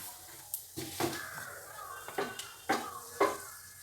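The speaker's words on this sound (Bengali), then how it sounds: "হলুদ দিয়ে দিলাম তেলের মধ্যে ছিটে গায়ে আসবে না" Panch phoron, dried red chilli and turmeric frying in hot oil, a low sizzle punctuated by several sharp clinks and scrapes of a utensil against the pan, with faint talk underneath.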